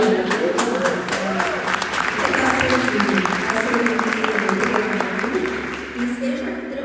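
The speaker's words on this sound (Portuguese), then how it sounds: "Vamos aplaudir." Audience applause at a church ministry event, a dense sustained clapping that fills the room at steady loudness, with voices mixed in underneath.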